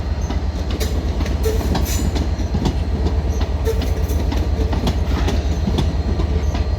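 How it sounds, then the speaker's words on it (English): A Southeastern service from Gillingham, formed of Class 377 units, rolls into London Victoria station with loud, continuous rumble and rhythmic wheel clatter close by, steady throughout with no voices. "So pulling in now, we're going to have a southeastern service from Gillingham, and this is obviously terminating here."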